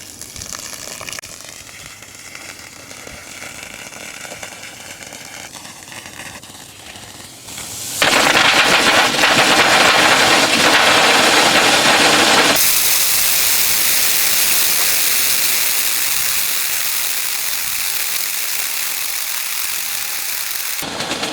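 An air compressor blasting air through the lines of an inground sprinkler system during winterizing, a hissing, gushing rush that surges louder partway through, then settles into a steady strong roar of escaping air and spray.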